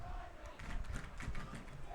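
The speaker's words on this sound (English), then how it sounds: "The Chaminade crowd already in good voice." A high school varsity soccer crowd at a Chaminade home match chants and shouts in a loud, sustained roar from the stands, voices rising and falling together at moderate distance.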